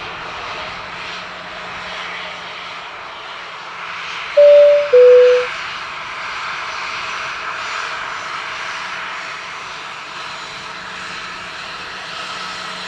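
A Boeing airliner's engines roar steadily at Dublin Airport, a broad continuous rumble heard from a distance, with two brief tonal beeps partway through.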